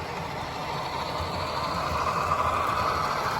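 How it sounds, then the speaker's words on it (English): A steady, continuous rolling rumble with a faint whine, like a small train running along its track nearby. "Got a couple of trains running."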